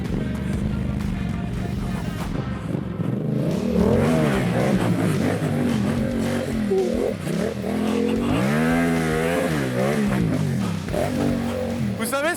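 Yamaha MT-07 motorcycle engine revving on motocross terrain, loud and close with repeated rising and falling revs that swell and dip throughout, with people talking over it.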